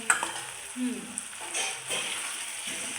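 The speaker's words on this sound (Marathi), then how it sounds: "असा टोमॅटो फ्राय होतो आहे" Tomato fries in a pan with a soft, fairly quiet sizzle, broken by a few utensil taps and light stirring scrapes.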